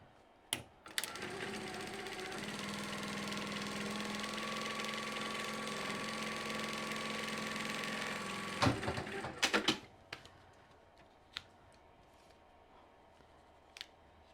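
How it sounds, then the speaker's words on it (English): A sewing machine runs steadily for several seconds with a fast mechanical whir, then stops, followed by a few sharp clicks and taps. "now I'm going to go over to the sewing machine and sew"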